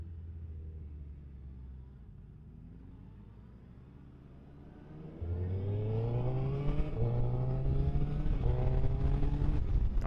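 A 2023 Suzuki Hayabusa engine heard from the saddle while riding, first a low steady drone, then a louder rising rev that climbs in pitch, with quick shifts and auto-blipped downshifts, wind roar building underneath.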